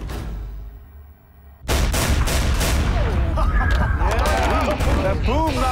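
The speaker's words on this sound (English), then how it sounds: "Though the cannon is in excellent shape and fires perfectly" A 1903 cannon fires with a sudden loud boom that follows a quieter lull, then a long rumbling roar and echo, while people shout and react in the background.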